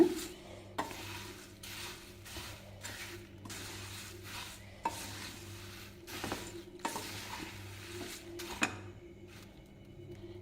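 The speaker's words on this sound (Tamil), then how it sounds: "திரும்ப அடுப்பை ஆன் பண்ணி வச்சுருக்கேங்க ஒரு நிமிஷம் அப்படியே வறுத்துக்கலாங்க" Spiced puffed rice (kara pori) roasting in a pan, with repeated rhythmic scraping and rustling strokes of a spoon against the metal over a faint low sizzle, a few brighter clinks standing out.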